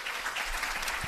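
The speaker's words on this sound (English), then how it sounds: "The exact correct volume of applause cut in by Shelby." Studio applause sound effect cut in on a comedy podcast, a steady wash of clapping at moderate, even volume for about a second, with no voices over it.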